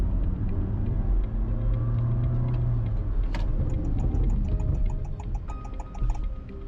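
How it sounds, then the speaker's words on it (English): A 2021 Honda City RS with all-round disc brakes and ABS slows hard on a test drive, a rumbling cabin drone giving way to a run of quick ticking clicks as the car pulls up. "let us test the braking system now."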